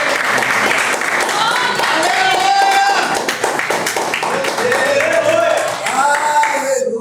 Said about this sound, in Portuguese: palmas bem alegres, palmas bem alegres